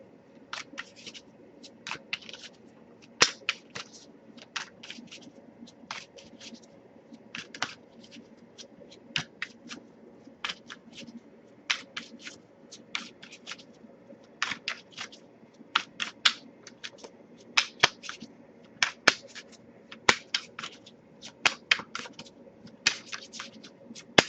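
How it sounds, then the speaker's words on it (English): Tarot cards being shuffled by hand during a love reading, heard as a continuous run of light, crisp card riffles and flicks with irregular clusters of sharper snaps, close by and fairly quiet, with no talking. "nothing come up yet, but I'll give it a few more shuffles"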